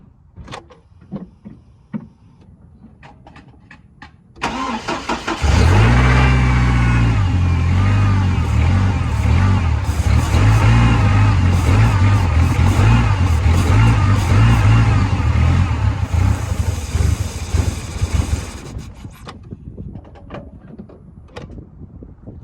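A truck engine cranks and starts, then runs loud and close for about thirteen seconds with a rough, uneven idle before shutting off, with some quiet handling sounds before and after.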